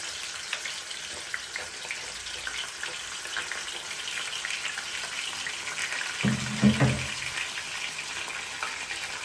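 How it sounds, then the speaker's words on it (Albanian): Peppers frying in a pan for a traditional fergese, a continuous dense sizzle heard close up, with a brief louder burst of stirring or clatter near the end and no speech. "Dhe në anën tjetër do i fërgoj kështu për 2-3 minuta."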